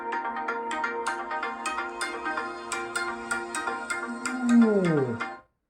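A Galaxy S22 Ultra phone speaker plays a ringtone loudly: a bright, repeating melodic pattern of tones that swells near the end, then slides downward and cuts off to silence.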